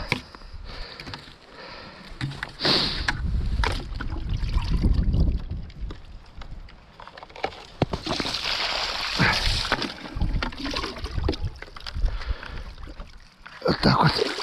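Clean lake water scooped into a container, producing irregular sloshing and splashing with gurgles, close by, while people talk.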